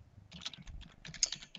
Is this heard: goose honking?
no